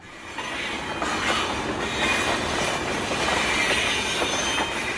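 A train pulls into a station, a steady rumble of wagons and wheels with faint squeals, continuous and fairly close, staged as a radio drama effect with no voices.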